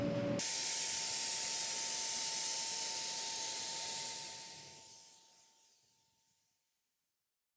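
A paint sprayer spraying paint thinned with water gives a steady, loud hiss for about four seconds, then fades out gradually to silence.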